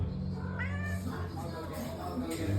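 Cats meow outdoors in several drawn-out, wavering calls that rise and fall, fairly close, over a constant low background rumble while people talk nearby.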